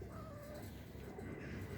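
A faint cat meows softly in a quiet room, a short drawn-out cry with some background hiss.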